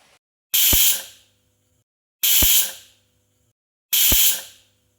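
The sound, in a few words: pressure cooker whistling and hissing steam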